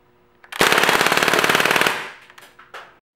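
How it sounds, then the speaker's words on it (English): Crosman A4-P air pistol firing in full auto, heard close up at the ejection port: a single loud, rapid rattling burst of closely spaced shots lasting about a second and a half, then fading into a few clicks. "Here is a close-up of the ejection port while firing in full auto mode."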